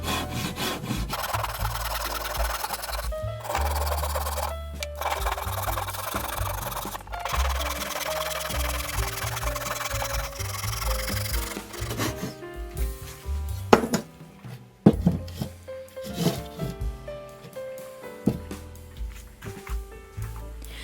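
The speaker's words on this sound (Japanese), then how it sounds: "機械で切れないところは手のこでなるべく切り落とします。" Hand saw cutting through wood while shaping a homemade wooden mug, with steady back-and-forth rasping strokes for about twelve seconds, then a sparser stretch of separate knocks and scraping from the workpiece.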